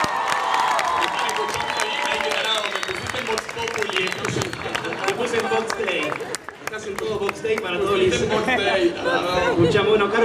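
A packed club crowd at Niceto greets a singer with loud, sustained applause and cheering. Shouts and chatter mix in over a continuous roar of clapping that dips briefly midway, then swells again.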